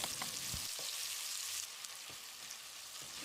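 Sliced onion sautéing in coconut oil in a cooker, a steady close hiss of frying with occasional soft stirring knocks, continuous and free of speech.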